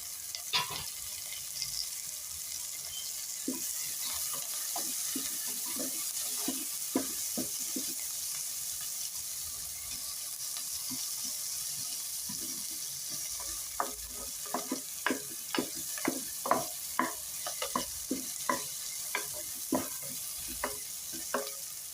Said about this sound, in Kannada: ಅದು ಸ್ವಲ್ಪ ಫ್ರೈ ಆಗಲಿ.